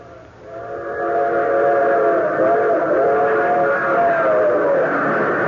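Steam train whistle in an old-time radio drama, sounding as a long sustained multi-tone blast over the steady rumble of a moving train, loud and close, with no talk.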